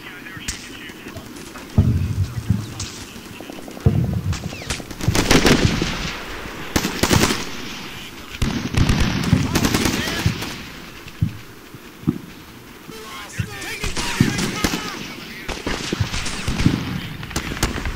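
A mounted machine gun fires in a Combat Mission: Shock Force battle, rattling in repeated loud bursts amid scattered gunfire and blasts, with a voice speaking over the fighting.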